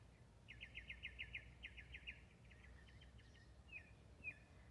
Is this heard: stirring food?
no